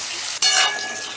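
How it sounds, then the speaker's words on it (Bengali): Potatoes fry in hot oil over raised gas heat for a fish curry, giving a sudden loud sizzle that flares up and then settles into a steady, close crackle. "এবারে গ্যাসের আঁচটা বাড়িয়ে দিয়ে আলুগুলোকে একটু লাল লাল করে ভেজে নেব।"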